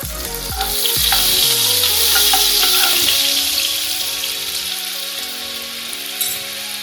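A spoonful of butter sizzles in refined oil in a pan, a loud, dense frying hiss heard close, with quiet background music underneath and no talk.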